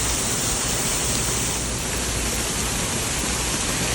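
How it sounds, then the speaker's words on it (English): Water rushes steadily over a woodland waterfall near Cedar Lake, a loud, dense, unbroken roar close by with no voices. "The sound of water, running water, is so calming and soothing"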